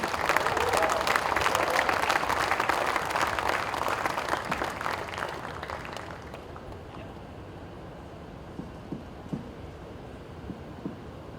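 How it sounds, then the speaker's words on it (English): Audience at a launch event with Sachin Tendulkar breaks into a big, dense round of applause that fills the first six seconds, then fades to scattered claps and low room murmur. "Can we have a big round of applause for him, please?"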